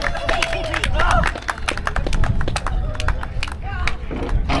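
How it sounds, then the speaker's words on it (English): Crowd of tourists on an excursion in colonial St. George, Bermuda, clapping in sharp, uneven bursts close by, mixed with cheering voices and people talking over the applause. "give her a round of applause"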